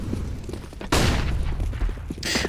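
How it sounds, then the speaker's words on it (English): A flashbang grenade bursts in the CS:GO video game during a competitive match: a sudden loud broadband blast rises over ongoing in-game noise and gunfire, with a short sharp hiss near the end. "There it is, the classic flashbang burst up top mid."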